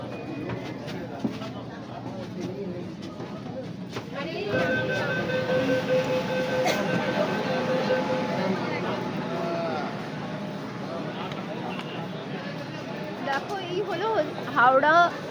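A Kolkata Metro Green Line train rumbles and hums through Maidan underground station, with a steady mechanical drone, brakes squealing, and a crowd murmuring and chattering throughout.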